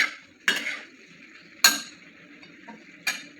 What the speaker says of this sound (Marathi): आता व्यवस्थित परतून घेणार आहे